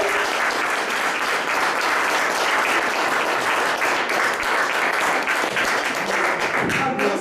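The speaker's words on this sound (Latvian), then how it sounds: "graujošu aplausus Andrai un Ventspils mājai" Audience at a literary prose reading event bursting into loud, sustained applause, dense continuous clapping throughout with occasional louder individual claps.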